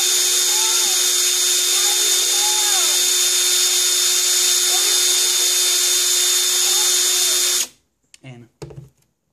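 A small power drill whines steadily as it bores the air hole in a Kayfun atomizer, running loud and continuous for several seconds before cutting out, followed by a few brief handling knocks.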